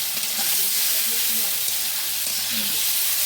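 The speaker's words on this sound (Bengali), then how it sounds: "মশলার মধ্যে হালকা করে জল দিয়ে দিয়েছি" Water poured into hot oil and spice masala sets off a loud, continuous sizzle that holds steady throughout.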